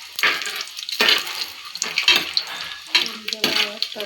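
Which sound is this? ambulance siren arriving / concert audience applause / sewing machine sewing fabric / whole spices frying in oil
whole spices frying in oil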